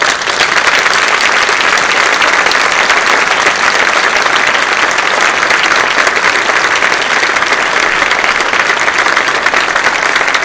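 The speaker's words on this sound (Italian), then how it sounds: "al generale Figliuolo, che vi invito ad accogliere con un grande applauso" Loud, dense applause from a large audience at the opening of a concert, continuous clapping holding at full strength for over ten seconds without pause.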